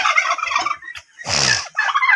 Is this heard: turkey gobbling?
yes